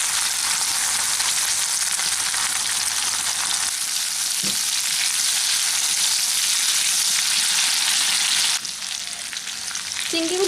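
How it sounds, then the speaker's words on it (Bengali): Shrimp fry lightly in hot oil, giving a steady, close, bright sizzle that crackles on without pause and with no voices. "চিংড়ি মাছগুলোকে হালকা করে ভেজে ফেলে নেবে"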